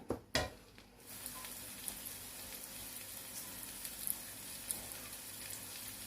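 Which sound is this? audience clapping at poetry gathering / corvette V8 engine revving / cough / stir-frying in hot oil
stir-frying in hot oil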